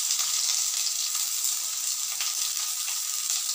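Chopped onion and garlic frying in hot tempered oil make a steady, bright sizzle that stays close and even throughout, with no voices.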